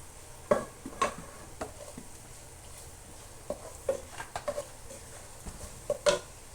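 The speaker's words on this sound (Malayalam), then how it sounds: "നമുക്ക് നല്ലോണം ഒന്ന് ഇളക്കി ഇത് ചെയ്ത് കൊടുക്കുക" Fish masala with turmeric stirred in coconut oil in a pan for a Dubai-style fish curry: soft, intermittent spoon scrapes and taps over a faint, low sizzle, with no talking.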